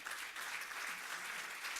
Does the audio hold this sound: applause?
yes